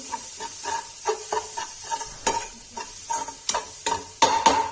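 Turmeric and red chili powder roasting in a hot pan for crispy Kashmiri-style bhindi, heard as a steady soft sizzle broken by repeated scraping stirs of a spoon against the pan, close and with no voices.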